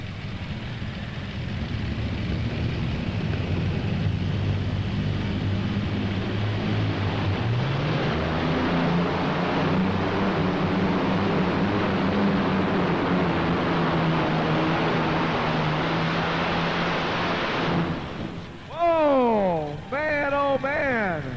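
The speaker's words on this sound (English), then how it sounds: "How about those Allison aircraft engines, man?" A tractor pull puller powered by Allison aircraft engines roars in a long, loud, sustained run with rising engine pitch at an indoor farm machinery show, cutting out near the end as an announcer speaks.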